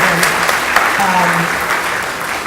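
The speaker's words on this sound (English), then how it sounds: "you guys should all do a huge clap for them" Dense crowd applause at a school orientation for pre-K and kindergarten families, steady and loud throughout with a brief voice breaking through underneath.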